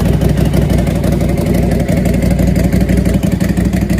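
A motorcycle with 18,317 miles runs at a steady, loud idle close by, its engine note even and throbbing with light mechanical clatter throughout, no voices over it.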